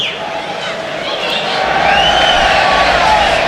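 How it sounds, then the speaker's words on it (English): A football crowd at Carlisle United versus Solihull Moors cheers in a broad, steady roar that swells louder in the second half, heard from within the stands with a general hubbub. "gets a delighted cheer from the crowd"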